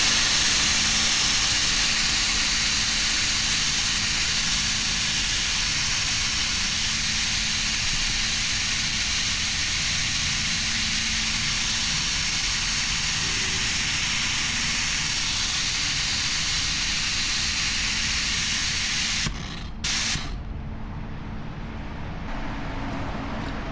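A Capri Tools vacuum bleeder drawing brake fluid from a bleeder valve on a 2020 Polaris 900 RZR, a steady loud hiss of suction running without pause, then cutting off abruptly near the end.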